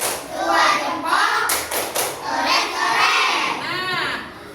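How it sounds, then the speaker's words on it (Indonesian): A classroom group of children claps together in a two-thumbs clap, bursts of hand claps and excited young voices, with a teacher's voice leading over the noise. "Kasih tepuk 2 jempol"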